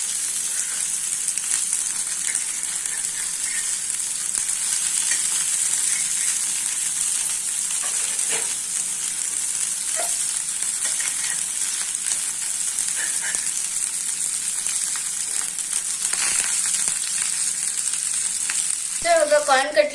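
Sweet corn cutlets fry in a pan with a steady, close hiss and crackle of oil that holds evenly throughout, ending on a brief louder scrape or clatter.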